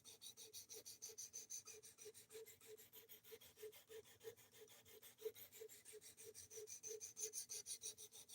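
A knife being sharpened with quick, even back-and-forth rasping strokes, a rapid regular scraping rhythm heard close and faint, alone without talk.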